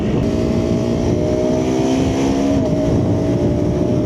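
A KTM 390 Adventure 350cc motorcycle engine drones loudly and steadily in traffic, holding a constant high rev with a slight pitch shift and no voices.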